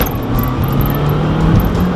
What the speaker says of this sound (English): Can you get the turbo sounds in that?